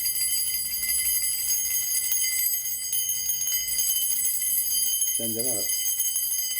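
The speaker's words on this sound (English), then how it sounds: "one of which that I always finish up with is the masculine and the feminine bells" A masculine and a feminine bell from Peru ring with long, shimmering sustained tones that hang steadily throughout, and a voice briefly speaks partway through.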